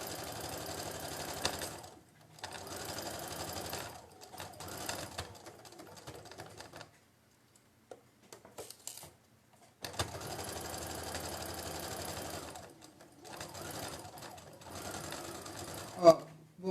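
A domestic sewing machine stitches a patchwork quilt block in several steady bursts of fast, even whirring, with pauses between runs. The machine is close and someone speaks quietly in between.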